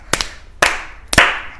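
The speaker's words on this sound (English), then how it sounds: "Christmas makes me clap, clap, clap." Three sharp, reverberant hand claps ring out one after another at an even pace, as children clap along to a Christmas song at an elementary school. Each clap rings briefly into the room.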